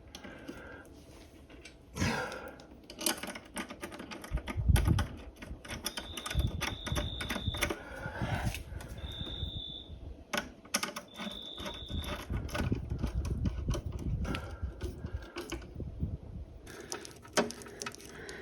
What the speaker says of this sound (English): Now I'm just screwing the case together, making sure that we've got no cables pinched anywhere